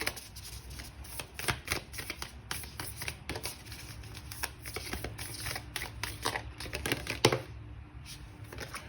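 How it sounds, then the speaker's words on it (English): Oracle cards being shuffled by hand, a dense run of close, crisp riffling and flicking sounds continuing for several seconds with no talk. "I saw it while I was shuffling."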